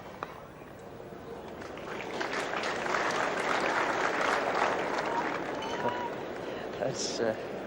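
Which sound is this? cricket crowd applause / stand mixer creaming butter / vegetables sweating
cricket crowd applause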